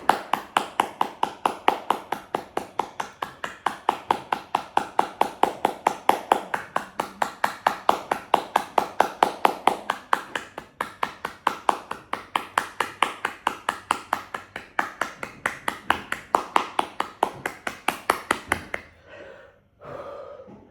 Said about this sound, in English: Breathe out and clap